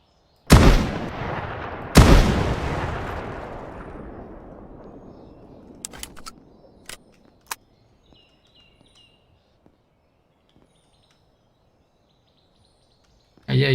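Two loud, close shotgun blasts in a video game, a second or so apart, each with a long echoing decay, followed by several faint distant shots and a final burst at the end.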